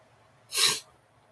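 A single sharp human sneeze bursts out close by, a quick hissing blast lasting under half a second against near silence.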